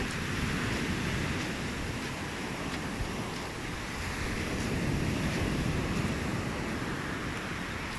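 Sea surf rolling onto a fine-sand beach, a steady broadband roar of breaking waves with wind buffeting the microphone, continuous and fairly loud with no voices.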